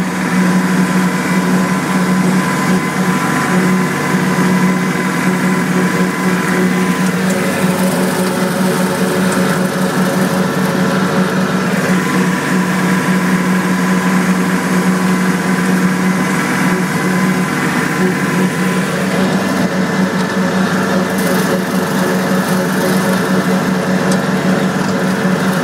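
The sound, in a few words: Kubota L3010 tractor engine running in low gear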